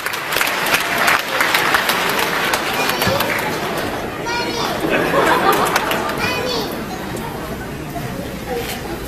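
A crowd applauds to welcome a speaker to a university lecture, loud clapping rolling on steadily with chatter and murmuring voices mixed in throughout.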